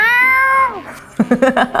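A cat meows in a long drawn-out wail, followed by a quick series of short, choppy mewing bursts.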